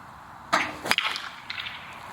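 A sharp crack of a BBCOR baseball bat striking a ball, followed by a second fainter knock and a brief rattle, with no voices.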